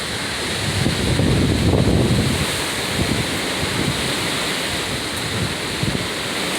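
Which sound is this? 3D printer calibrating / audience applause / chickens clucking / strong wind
strong wind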